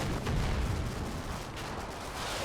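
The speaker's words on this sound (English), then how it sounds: "have been ever so slowly taking out the Germans that are lurking in that marsh, just through occasional rifle pot shots" Scattered rifle pot shots in the Combat Mission: Battle for Normandy war game, distant cracks and rumbling gunfire rolling through a steady battlefield din, with no talking.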